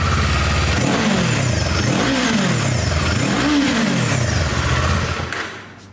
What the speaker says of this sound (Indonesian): Kayak raungan mesin engine sport nih.